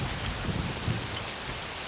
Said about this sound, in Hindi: ये बारिश तो कम होने का नाम ही नहीं ले रही है।